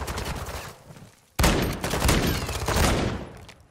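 Rapid automatic gunfire in a Call of Duty esports match between Vegas Legion and Seattle Surge: a loud, dense burst of fast shots that eases off, then a sharp second volley that keeps rattling for a couple of seconds, with no talk over it.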